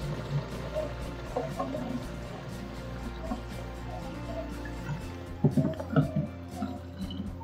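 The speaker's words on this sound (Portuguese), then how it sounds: "E eu já vou colocar também água sanitária num vidro menor" Bleach is poured from a large 5-litre jug into a smaller glass bottle in a home: a steady liquid gurgle and splash, close by, with a few louder sloshing bursts near the end.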